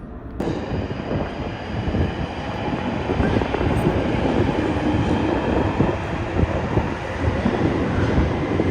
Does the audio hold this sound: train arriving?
yes